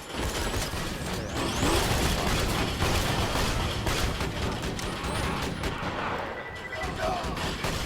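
A sentry turret deploys with mechanical clanks in a video game, then fires rapid, dense bursts of gunfire that last throughout, loud and close.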